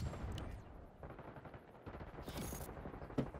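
Bursts of gunfire from a Call of Duty Black Ops 6 match, rattling in dense overlapping volleys with a sharp crack near the end, layered over a constant low rumble of battle.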